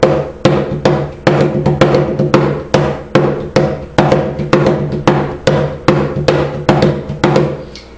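Low-tone strokes on a cajon hit in a steady, even rhythm, about sixteen deep thumps with short decays, each played alone and close.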